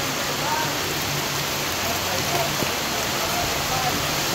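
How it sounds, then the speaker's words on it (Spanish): Heavy rain pours down steadily outdoors, a dense, even hiss close to the microphone lasting throughout with no voices. "Qué lluvia."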